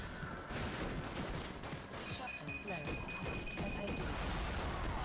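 Rapid machine gun fire in the zombie shooter video game Dead Nation crackles steadily through dense, busy game noise, while a player's excited voice talks over the action throughout.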